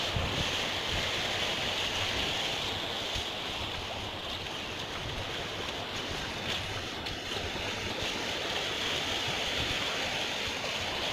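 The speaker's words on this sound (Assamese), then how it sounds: "এটা সময়ত সৰু আছিল, এতিয়া ডাঙৰ হৈ আছে নদীটো" A swollen, flooding river in a village rushes past with a constant broad roar and wind buffeting, heard from a short distance with no talking.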